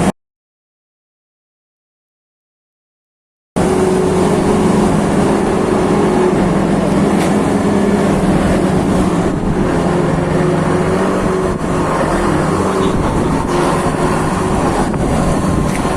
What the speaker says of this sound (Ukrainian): Трактор під'їжджає до агрегату, керуючись командами помічника тракториста.